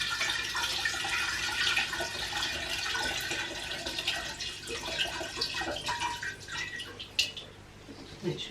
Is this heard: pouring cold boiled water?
yes